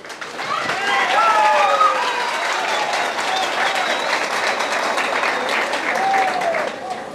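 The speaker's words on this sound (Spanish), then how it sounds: "Aplauso para el hermano." Applause rises for a brother at a Pentecostal debate with a priest, dense clapping and crowd noise throughout, with voices and calls mixed in.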